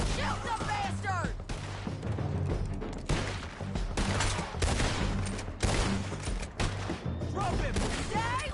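Gunfire in Red Dead Redemption 2, volleys of rifle and pistol shots cracking in irregular bursts, loud and close, with shouting voices mixed in throughout.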